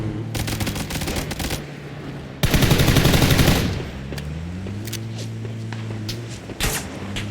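Gunfire in PUBG, a first-person ranked match on the Taego map: rapid shots crackle at the start, then a loud, dense volley of automatic fire lasts over a second, followed by scattered footsteps and a few later shots.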